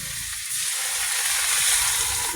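Water hits a hot frying pan while snakehead fish cooks with taro and sour spinach: a loud, close, continuous hiss of steam and sizzle that swells a little and keeps going without a break.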